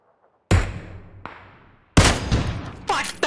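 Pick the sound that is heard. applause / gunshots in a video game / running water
gunshots in a video game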